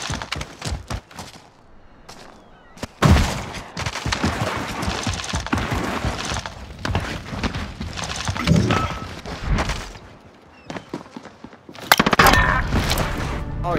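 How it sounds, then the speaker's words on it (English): Shotgun and other gunfire in a multiplayer video game, a chaotic stretch of sharp blasts and rapid bursts layered with clattering footsteps and game noise, loud and busy throughout. "Oh yeah, shotgun."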